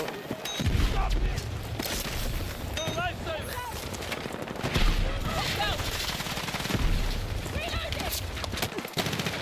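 Rapid volleys of game gunfire, automatic bursts and single shots overlapping in a chaotic firefight, steady and fairly loud, with people talking and reacting over it.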